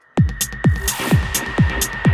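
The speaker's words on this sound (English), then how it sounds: "hopefully I've got a nice long reverb on it." An electronic dance track plays in Ableton with a long reverb added, punchy kick drums thumping on a steady beat with a sustained tone and hi-hat bursts, each hit trailing into a washy tail.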